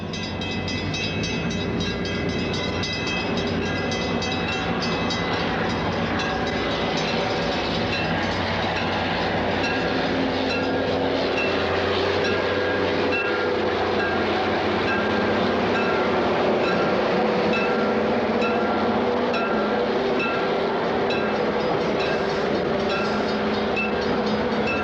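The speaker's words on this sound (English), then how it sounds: "Rock Island commuter train enters Blue Island with bi-level coaches on the west or suburban side" Rock Island commuter train with bi-level coaches rolling into Blue Island station on the suburban side, a steady loud rumble with squealing wheel and brake tones sustained throughout, no voices.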